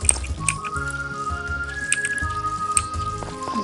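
Watering crops in the Harvest Moon: Story of Seasons Friends of Mineral Town farming game, a run of soft dripping, splashing water effects with a few light tonal chimes over a quiet melodic game background, no talking.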